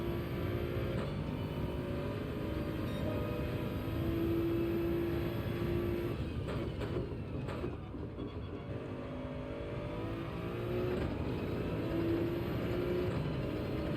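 GT3 race cars in a racing video game give a steady, fairly quiet engine drone with a sustained high whine and small pitch shifts through the corners, continuous for the whole stretch.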